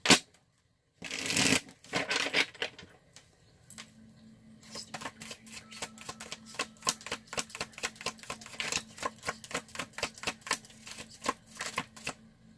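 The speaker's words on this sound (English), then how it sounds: "Then I shuffle it a bunch of times." Tarot cards are riffled and shuffled repeatedly, a rapid series of crisp flapping snaps with brief pauses, close and moderately loud.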